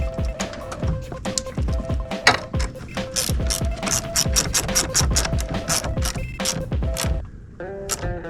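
A ratchet clicks in quick bursts while the negative terminal goes back onto a car battery during a Granatelli throttle body and 6.2L intake manifold install, close and busy, with a few faint tonal tones near the end.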